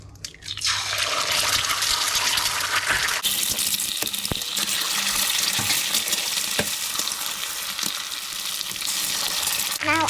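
Eggs sizzle and crackle in olive oil in a frying pan, a steady close hiss with scattered pops and a few sharp clicks, continuing throughout.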